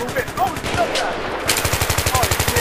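Rapid automatic gunfire from a Battlefield 3 video game, loud bursts of evenly spaced shots that briefly pause and then resume in a fast steady rattle.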